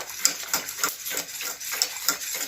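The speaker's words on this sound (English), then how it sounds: "So keep stirring, because you don't want any lumps" A spoon stirs a thickening dessert mixture in a pot with steady, rhythmic scraping strokes. About eight close, evenly spaced sweeps come through with no talking.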